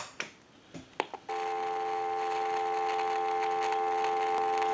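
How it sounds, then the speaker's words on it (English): A Northern Electric Galion rotary telephone clicks and clunks as it is plugged in, then a steady, loud dial tone hums continuously until the end. "and we'll give you some dial tone."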